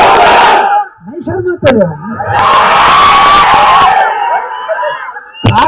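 A crowd at a rally chants the religious slogan Nara-e-Takbir, with loud bursts of massed shouting and cheering, close and forceful, alternating with someone speaking over a loudspeaker.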